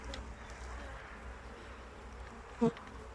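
Honeybees at hive number 10 in Sakarya in March give off a soft, steady buzzing hum, with one brief nearby knock or bump near the end.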